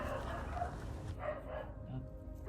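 Dogs bark and yip at a distance outside a fence, faint and muffled beneath a steady low hum, with a dog nearby joining in.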